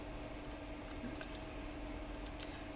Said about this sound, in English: I'm just gonna click anything.